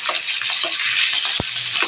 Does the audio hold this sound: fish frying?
yes